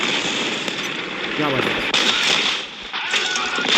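Tank cannon fire in the War Thunder tank combat game: a sharp shot punches through dense, continuous battle rumble and engine noise, with someone talking over it.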